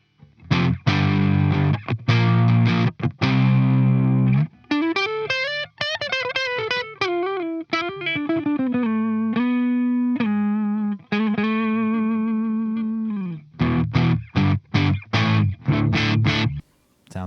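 A Gibson V electric guitar played through the neck pickup with distortion: strummed chords, then sustained single-note runs and bends, then choppy chords again, loud and close with no talking.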